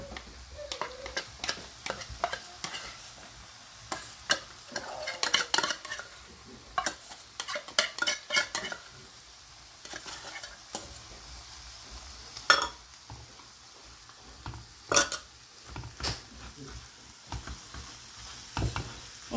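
Drained canned tuna is stirred in a pan while it fries, with repeated scraping and clinking strokes over a soft, steady sizzle and no speech.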